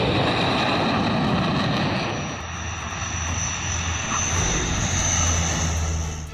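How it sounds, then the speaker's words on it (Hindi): Fighter jets such as Sukhoi, Mirage and Jaguar touch down on the Purvanchal Expressway airstrip with a loud, sustained engine roar that dips briefly midway, then swells again under a high whine. "सुखोई, मिराज और जगुआर जैसे कई फाइटर प्लेन के टचडाउन के साथ पूर्वांचल एक्सप्रेस वे वाली हवाई पट्टी से"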